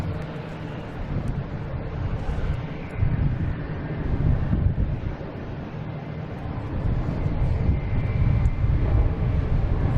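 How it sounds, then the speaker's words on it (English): Airbus A321neo jet airliner at Boston Logan airport, a broad low rumbling roar swelling and fading at a distance, mixed with wind buffeting on the microphone, no talk. "Heading to Milan, an A321neo, flight 331."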